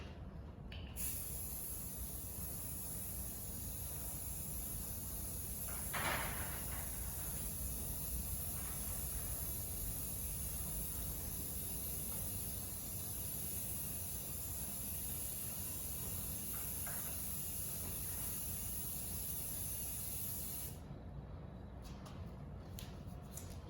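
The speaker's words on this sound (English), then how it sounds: "We are going to start spraying some purple paint on here." Purple paint hisses steadily from a spray gun onto a Club Car DS golf cart, a continuous close airy spray lasting about twenty seconds before cutting off.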